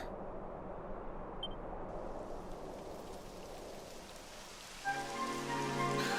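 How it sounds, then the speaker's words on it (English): Steady rain hisses continuously over a surface in Dragon Quest XI S, with a soft, dense patter; near the end a sustained musical tone joins in. "It would have to go and start raining, wouldn't it?"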